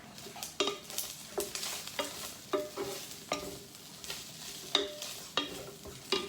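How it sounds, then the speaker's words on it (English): Vegan food frying in a pan as a bánh mì sandwich filling is cooked, with a steady crackling sizzle broken up by repeated stirring scrapes and clatters, close and moderately loud with no talking. "You hear that sizzling?"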